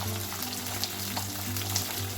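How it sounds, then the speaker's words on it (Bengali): Cheese sandwiches fry in a pan with a steady soft sizzle and occasional small pops, and a low hum sits under it. "ওদেরটা চিজ দিয়ে ভেজে দিলাম।"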